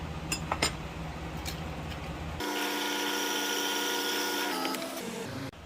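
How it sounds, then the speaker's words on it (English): A power drill whines steadily at high pitch for a few seconds as it bores a lanyard hole in a small knife, after some quieter handling noise at the start. "Now we're going to change the drill bit so we could drill our lanyard hole."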